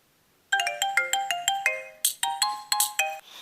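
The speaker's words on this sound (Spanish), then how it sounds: "si quieres tu celular que suene así cuando te llamen" A cell phone ringtone plays alone as a bright, fast run of melodic electronic beeps, about a dozen sharp notes in quick rhythm, loud and close.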